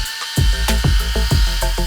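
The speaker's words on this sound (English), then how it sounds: "So now we're gonna drill mix it really quick one more time" A power drill with a mixing paddle churns countertop epoxy in a container, starting abruptly and whirring loudly with a rhythmic, pulsing scrape.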